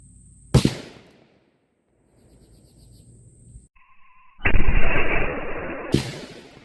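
A 6.5 Creedmoor rifle firing a Federal Power-Shok 140-grain bullet into ballistic gel at an outdoor range, heard as a sharp loud report, a quiet gap, then a second loud burst with a lingering rumble.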